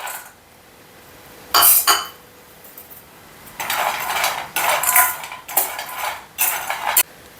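Almonds being fried in a pan on a gas stove, heard as bursts of clattering and scraping metal as the nuts are moved around, separated by brief quiet gaps, with no talking.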